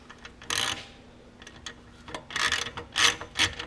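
Ratchet wrench tightening an exhaust clamp on a Triumph bobber, giving several bursts of quick clicking, close and fairly loud, with short pauses between strokes.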